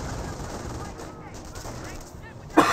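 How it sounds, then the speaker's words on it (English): An MG42 machine gun firing in a Company of Heroes 1 battle: a steady stream of rapid rattling bursts heard at moderate distance under battle noise, ending with a sharp louder crack. "There's the MG42."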